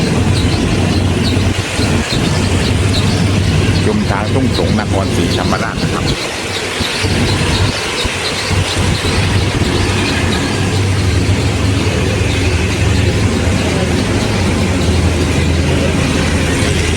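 Local train 447 from Surat Thani to Sungai Kolok, an old carriage with classic wooden seats, runs near Thung Song with a loud continuous rumble and rattle of wheels on track, while someone talks over the din.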